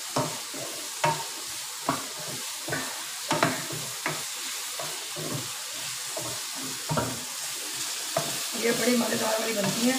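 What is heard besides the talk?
stirring okra frying on low heat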